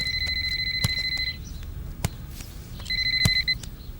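An electronic phone ringtone trills in two bursts separated by a pause, with a few sharp clicks and a low background hum.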